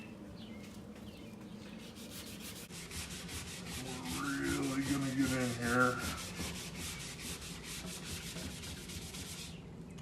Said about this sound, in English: we're going to put the sanding pad on there